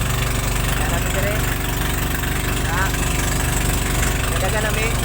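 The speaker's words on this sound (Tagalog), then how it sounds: "May saba kayo ang makina." A boat engine runs steadily throughout, a loud continuous mid-pitched drone with a constant throb and no pauses, while a voice talks over it now and then.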